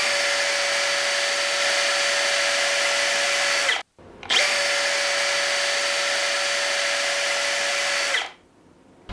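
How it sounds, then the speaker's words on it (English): Power drill boring through a wall for a mini split line, loud steady high whine running about four seconds, a brief stop, then another long continuous run before cutting off. "I hold it very, very straight, and then I just drill straight out"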